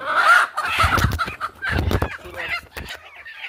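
A broody hen being set on eggs clucks and squawks up close in a quick, agitated series of calls, loud and alone.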